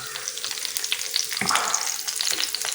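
Steady crackling sizzle of curry leaves frying in hot oil, close and continuous with a brief louder burst partway through.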